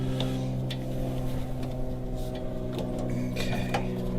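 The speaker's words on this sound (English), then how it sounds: "We're just seeing if the pump's going to turn on right now" An electric power steering pump from a Toyota MR2, fitted to an RX7, runs dry with no fluid, giving a steady, close electric hum and whine, with faint clicks and rattles on top.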